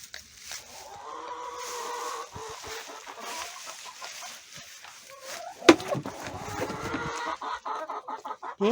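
Hens cluck and sing together in a backyard poultry run, their calls steady and close under a rooster, with a sudden sharp call standing out partway through.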